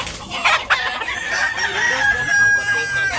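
A rooster crows loudly and close by at a Cebu market, with clucking fowl and faint crowd noise around it.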